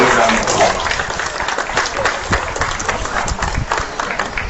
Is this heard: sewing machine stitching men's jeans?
no